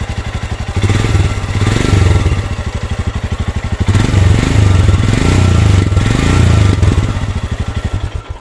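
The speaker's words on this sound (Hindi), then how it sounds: "Let me make you here the exhaust note once." Royal Enfield Scram 411 motorcycle exhaust, loud and close, thumping in a steady rhythm at idle with two swells as the throttle is blipped, and no voices over it.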